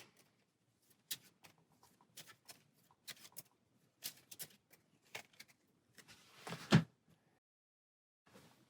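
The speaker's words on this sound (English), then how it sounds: "So we'll take that out, shuffle this up." A stack of Wingspan board game automa cards is shuffled by hand, giving soft, quick riffling taps and flicks in short bursts, close but quiet, ending in a louder brush of cards against a table.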